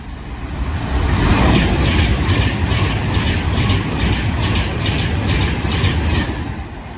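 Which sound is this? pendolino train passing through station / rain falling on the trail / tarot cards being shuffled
pendolino train passing through station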